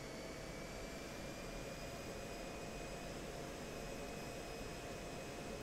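Steady, continuous roar of an F-16 jet engine in the DCS World flight simulator game, a constant broadband whine with faint high tones, even and unbroken throughout with no talking.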